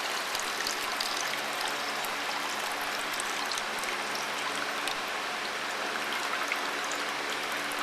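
Water pours and trickles steadily over homemade butter during rinsing, a continuous close splashing hiss with no voices.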